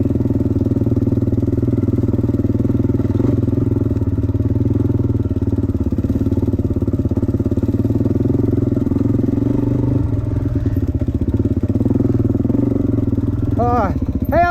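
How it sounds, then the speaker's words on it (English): A Husqvarna 300 dirt bike engine with a broken piston ring idles steadily and loudly with a rough, uneven metallic clatter running through it, and a voice briefly cuts in near the end. "Sounds like a broken ring."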